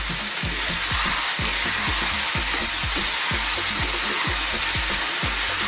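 Chicken curry, made extra hot without tomatoes or yogurt, fries loudly over medium heat in a pan, with a steady sizzle and a rhythmic scrape of stirring roughly every second, close and continuous.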